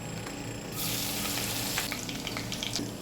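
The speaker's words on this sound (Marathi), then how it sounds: "1 चमचा लसूण बारीक चिरून घेतला आहे तो टाकूया." Finely chopped garlic hits hot oil in a kadhai for vegetable fried rice, bursting into a loud, continuous crackling sizzle after a brief quieter moment, with light stirring scrapes.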